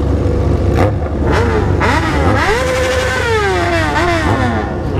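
Several motorcycle engines, including a BMW S1000, rev repeatedly nearby at a traffic light, pitches rising and falling in loud overlapping throttle bursts.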